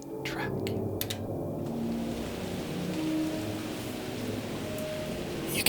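Field recording of a thunderstorm with rain in Iowa City, a dense steady hiss of rainfall with low rumbling underneath and a few sharp close drip or crack transients at the start and end, no voices.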